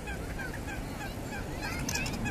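Ducks calling, with repeated harsh honking calls that overlap and carry loudly over a constant noisy background and no speech.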